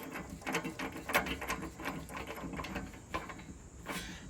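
A ratchet tightens a 13mm lock nut while fitting 4WD crossbars, giving a close, quiet run of rapid clicks with small irregular pauses and no speech.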